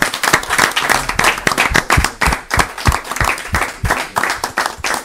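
An audience at a church broadcast applauding to acclaim the Lord, dense rhythmic clapping from a crowd close up, steady and loud throughout.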